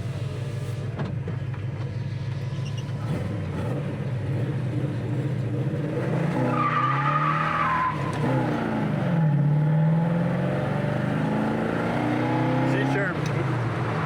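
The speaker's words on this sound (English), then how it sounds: "So we got a good little tire squeal there" A 1970 Chevrolet Chevelle SS on a test drive rumbles steadily from inside the cabin, then its tires give a brief squeal midway as the engine pulls, with people talking over the car noise.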